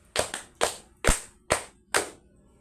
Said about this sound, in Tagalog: Magaling mga bata, bigyan natin ng 5 palakpak si Bungaos